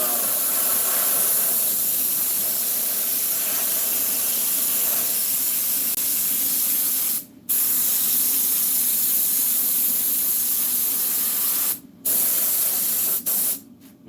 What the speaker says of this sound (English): Take that glue and spray right around the edge right here.